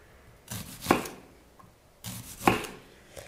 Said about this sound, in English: And then you clean the onion and cut it.